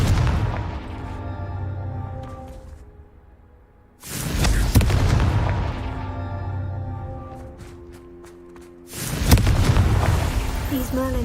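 Three heavy booming blasts from the Confringo fire spell in Hogwarts Legacy, each a sudden loud burst with a rumbling, crackling tail, spaced a few seconds apart against a steady game background.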